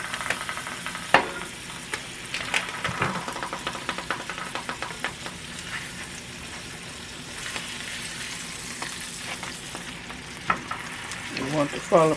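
Butter frying in a pan while a grilled cheese sandwich with smoked sausage and egg cooks, giving a steady close sizzle and crackle with occasional scrapes and stirring clatter.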